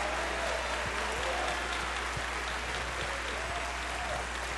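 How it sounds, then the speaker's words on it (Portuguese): A church congregation at a Sunday service breaks into loud, sustained applause, a dense and even wash of many hands clapping that holds steady throughout, with a faint voice or tones sounding underneath. "vamos dar um aplauso"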